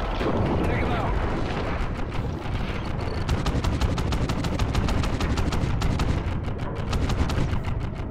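Dense, loud bursts of automatic gunfire in the video game Call of Duty Ghosts during an underwater mission, with sharp rapid shots crackling over a constant rumble of game effects for the whole stretch.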